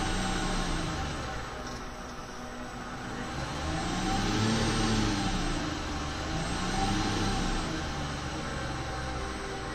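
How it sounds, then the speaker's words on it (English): High-RPM whine of the electric motor in a Fiat 500 EV conversion, a steady mid-pitched hum with gently rising and falling tones over broad road-like noise, continuous and fairly close, no talk. "We are driving this motor up to 7000 RPMs, but in most cases we are limited to 6000 RPMs."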